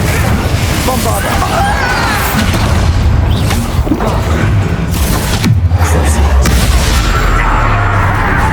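Blasting spell explosions in a fantasy action video game, heavy booming bursts and crashes recurring over busy combat sounds and game music, with voices calling spells nearby.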